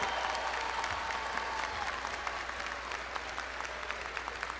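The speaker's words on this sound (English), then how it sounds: "How about a big round of applause for these incredible graduates?" An audience at a fall university commencement for doctoral and master's graduates gives a sustained round of applause, dense and even crowd clapping heard from a distance, with no speech over it.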